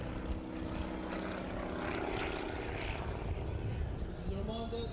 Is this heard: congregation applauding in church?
no